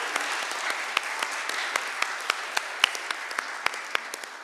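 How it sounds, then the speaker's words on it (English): A small group claps steadily for several seconds, a scattered patter of individual claps over a soft hiss, with no voices. "that deserves a round of applause, I think"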